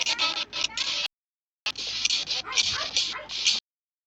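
A dog whimpers and yips in short, high-pitched bursts, close by near a river, with a brief silent gap partway through.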